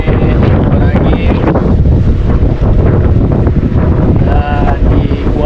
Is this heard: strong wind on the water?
yes